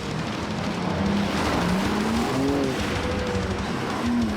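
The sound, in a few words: BMW car drifting sideways under power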